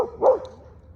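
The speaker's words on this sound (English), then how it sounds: "So we got some barking." A single short dog bark sounds near the start, moderately loud, followed by quiet.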